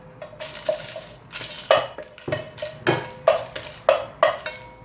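Dry spices tipped into a heating pan for chicken biryani, with a series of close metallic clinks and rattling scrapes against the pan in an uneven rhythm, no talking.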